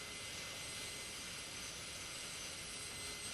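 A high-pitched dental drill burr runs steadily while preparing a premolar for a veneer, a continuous whine held throughout with no pauses or talk.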